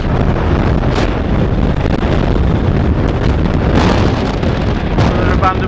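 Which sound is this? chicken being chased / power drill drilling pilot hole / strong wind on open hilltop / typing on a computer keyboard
strong wind on open hilltop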